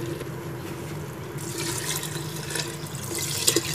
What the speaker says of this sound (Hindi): जितने हमने चावल लिए हैं उसका दुगना पानी डालेंगे हम इसमें